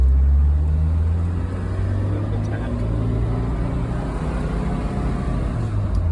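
A 1984 Spider sports car engine pulls steadily at around 4,000 RPM in first gear, a loud, continuous low drone with a sustained rising hum that holds throughout, heard from inside the car.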